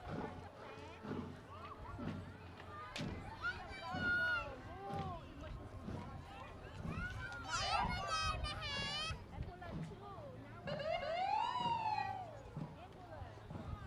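Emergency vehicle sirens wail in rising and falling sweeps during a strawberry festival street parade, several bursts over lively crowd noise with children talking nearby.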